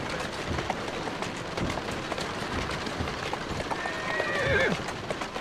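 Horse in an Assassin's Creed: Syndicate video game, hooves clip-clopping at a run with a brief neigh near the end, set against steady game ambience and light rain-like noise; a voice talks over it.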